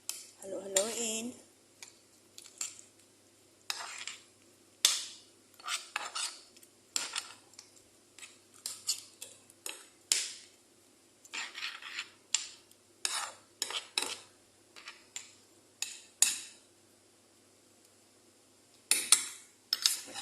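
Metal utensil scraping and clinking in a pan while a shrimp mixture with a little ketchup is stirred, giving irregular close taps and scrapes, with brief speech at the start.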